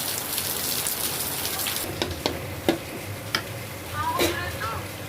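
Heavy rain pours down outside a village home on a Ganesh puja day, a dense, steady hiss with a few sharper drips and taps, and a voice briefly audible near the end.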